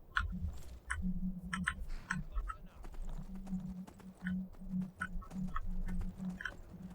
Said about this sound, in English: I should just ride the horse.